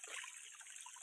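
Spring water streams into a rural hillside water system with a faint, steady trickle and hiss, quiet and even throughout, with no voices.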